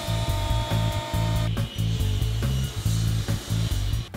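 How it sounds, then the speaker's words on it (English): A jointer's cutterhead whines steadily as a wooden board edge is fed across it and straightened, with dips in the drone where the cut pauses and resumes, loud and close with no talk. "I'm gonna go ahead and make one edge nice and straight at the joiner"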